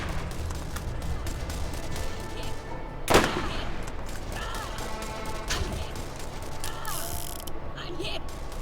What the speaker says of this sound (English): Oh, somebody's shooting up over there.